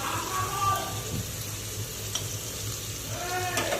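Cardamom pods and a bay leaf sizzling in hot white oil in a pan, a steady soft frying hiss with faint stirring scrapes throughout, no talking.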